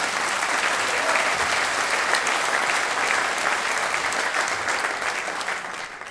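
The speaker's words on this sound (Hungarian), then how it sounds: "Ő egy külön tapsot is megérdemel szerintem." Dense, steady applause from a concert audience at a memorial concert. Loud, continuous clapping fills the whole stretch and eases off slightly at the end.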